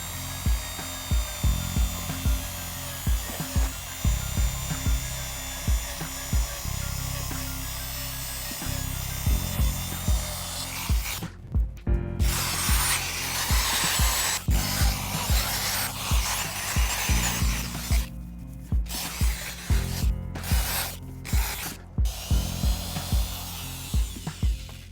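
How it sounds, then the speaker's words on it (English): Power sander with an 800 grit paper disc working over a plastic car headlight cover, a continuous whirring rasp with rhythmic pulses and brief stops between passes, close and loud, with no talk. "move to the finer 800 grit paper disc and make several passes over the complete surface"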